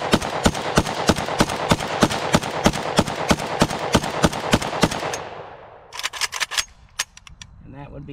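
PSA-74 rifle in 5.45x39 firing at an outdoor range, a fast evenly spaced string of loud sharp shots for about five seconds, followed by a few scattered clanks and handling noises.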